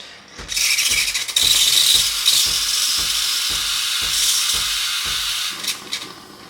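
An espresso machine steam wand froths milk for a mocha with a loud, steady hiss and airy rushing, broken by rhythmic gurgling pulses, lasting several seconds and easing slightly near the end.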